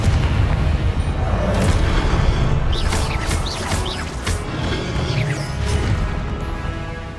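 Booming fire-spell blasts from the Confringo spell in Hogwarts Legacy, a sustained loud rumbling roar with several crackling whooshes layered on top and no voice.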